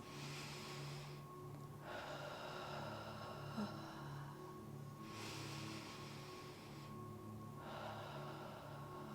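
Slow, deep breaths come during a seated yoga twist, two long airy inhale-exhale cycles heard close and soft over a faint background hum.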